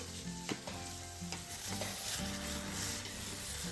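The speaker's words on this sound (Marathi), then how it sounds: "सगळं मिक्स करायचंय आणि छान कैरी सोबत परतून घ्यायचं." Raw mango sautéing in a pan with spices, salt and black salt for a sweet-sour chutney: a steady close sizzle with scraping stir strokes and a few sharp clicks of the spoon against the pan.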